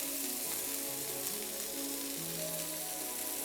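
Chicken sizzles in a very hot pan after being flipped. The frying is a continuous soft crackle and hiss with no voices.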